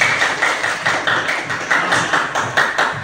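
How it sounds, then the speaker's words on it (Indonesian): Classroom of students clapping hands together in a repeated, fairly even rhythm of sharp taps, steady and close throughout, with no talk over it. "Tepuk tangan."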